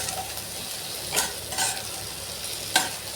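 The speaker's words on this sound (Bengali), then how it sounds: "আমি 5 ফোড়ন দিয়ে মাছের তেল চচ্চড়িটার জন্য পেঁয়াজ আর রসুন ছেড়ে দিয়েছি।" Onion and garlic fry in oil with five-spice for a fish chorchori, a steady sizzle broken by a few sharp scraping stirs of the spatula in the pan.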